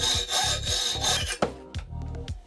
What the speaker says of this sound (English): With the help of a bench vise, let's cut these marked pieces of steel to end up with the 3 sections.